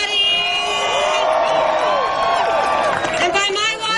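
A large outdoor Hempfest crowd roars with sustained cheering, whoops and shrill whistles, dense and loud for the full stretch, swelling near the end.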